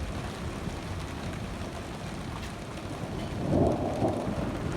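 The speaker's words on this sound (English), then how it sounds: "Feels like it's just rain now, with an occasional hail." Rain falls steadily through an afternoon storm with occasional hail mixed in, a constant hiss on surfaces, with a low thunder-like swell rising near the end.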